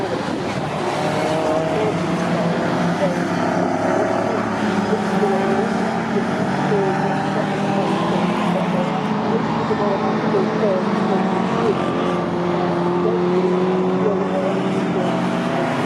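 Pre-1983 Group 1 and pre-1966 touring cars, including a Dolomite Sprint, race at Thruxton circuit, engines roaring and droning continuously and loudly throughout, with commentary over the racing noise.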